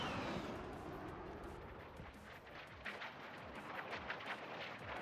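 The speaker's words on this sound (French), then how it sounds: "il peut pas y avoir autant de missiles qui partent sans qu'un truc pète" Missiles launch and explode across the map in Call of Duty Warzone, a dense continuous rumble of distant blasts and booming impacts rolling on without pause, with no talk over it.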